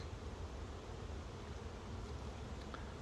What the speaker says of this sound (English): But there's bees going in the box.